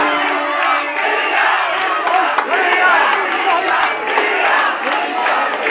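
A large crowd at a political rally procession shouts and chants, loud and continuous, with sharp claps and cries standing out over the dense roar of voices.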